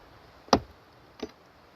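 Bees are knocked off a wooden beehive frame, giving two sharp knocks about 0.7 seconds apart. The first is louder and the second softer, over quiet background.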